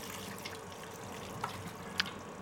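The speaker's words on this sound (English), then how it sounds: "Drain that water out." Starchy water draining off soaked potatoes in a kitchen sink, a soft steady wash of running water with a couple of small drips and clinks, fairly quiet and continuous.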